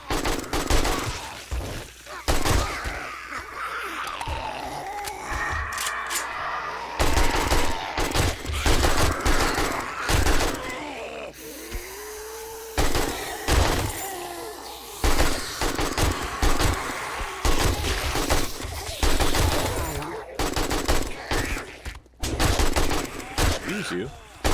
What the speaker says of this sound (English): lever action is just so fun to do. Those quick off-the-clip shots.